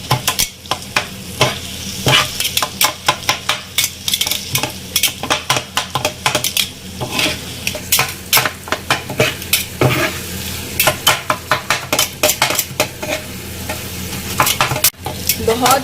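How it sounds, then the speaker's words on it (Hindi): Rapid rhythmic metal-on-metal clanking of spatulas chopping and stirring kata kat on a hot iron griddle, with steady sizzling frying underneath; loud, close and continuous. "हम इसको कटाकट करेंगे"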